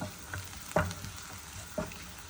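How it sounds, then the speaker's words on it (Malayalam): Sliced onions with turmeric fry in a pan under a soft, steady sizzle, broken by a few quiet scraping stirs of a spoon, close by and without talk. "ഞാൻ കുറച്ച് മഞ്ഞൾപ്പൊടി ഇടുന്നുണ്ട് കേട്ടോ സവാളയിലോട്ട്. നമുക്കൊന്ന് മിക്സ് ചെയ്ത് കൊടുക്കാം നല്ലോണം."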